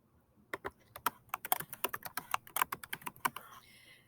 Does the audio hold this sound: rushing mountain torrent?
no